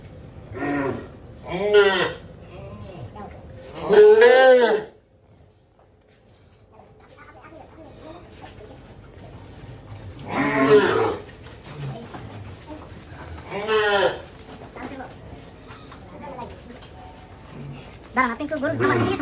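A cow out in the open on a cattle farm gives several loud, drawn-out moos in separate bursts, with quieter stretches of shuffling and farmyard background between them.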